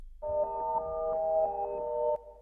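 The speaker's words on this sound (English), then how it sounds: "As you can hear, it plays in the reverse." A Korg Volca Sample plays a reversed sample: a sustained, bright tonal sound with shimmering harmonics that swells for about two seconds, then cuts off.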